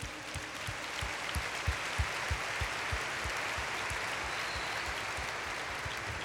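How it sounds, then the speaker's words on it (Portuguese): A church conference crowd applauds in a thick, sustained wash of clapping, with a repeated low thumping pulse running beneath it throughout. "Vamos aplaudi-los?"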